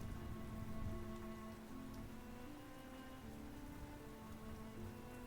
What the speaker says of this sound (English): Jabiim, the planet that never stops raining.